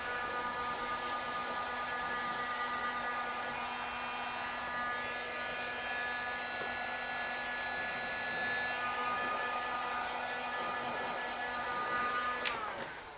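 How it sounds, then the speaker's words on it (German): A hair dryer set to 100 degrees blows steadily with a constant whirring hiss for the whole stretch, close by, ending with a brief click near the finish. "Der Föhn ist auf 100 Grad eingestellt."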